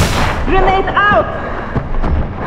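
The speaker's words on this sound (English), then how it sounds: "Grenade out!" A grenade in the Sniper Elite 5 game goes off with a loud, short boom and rumble, heard over shouted in-game voices.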